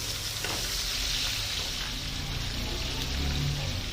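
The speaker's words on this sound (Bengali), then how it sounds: "এবার আমি এই চিংড়ি মাছগুলো দিয়ে দেবো, ভেজে নেবো" Prawns frying in hot oil for a paneer and prawn dish, a steady dense sizzle filling the whole stretch, loud and close with faint stirring scrapes, and no voices.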